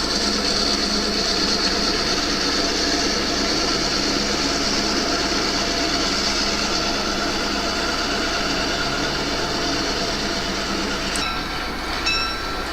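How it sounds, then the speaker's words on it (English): A Penn Central model train on a DC layout, made up of F7A and GP9 locomotives, runs with a steady, continuous mechanical hum and track rumble that holds level throughout, with a few light clicks near the end. "how's about a 4-unit consist of first-generation locomotives, F7As, with a pair of GP9s in between?"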